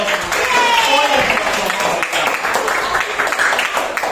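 Fifth-grade class applauding in a classroom after a maths group activity, a steady wash of clapping throughout, with voices talking and calling out over it.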